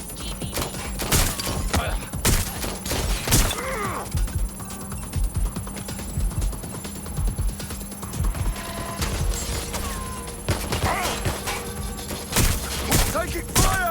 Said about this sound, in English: Gunfire! I'm being suppressed